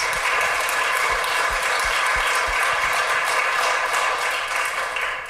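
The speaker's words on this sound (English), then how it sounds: "So a big round of applause of thanks to that task force" A town hall audience gives a sustained round of applause, dense and even clapping filling the room, with a few low thumps early on and a slight fade at the end.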